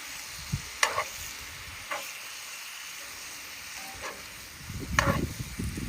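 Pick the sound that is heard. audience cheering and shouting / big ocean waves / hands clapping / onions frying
onions frying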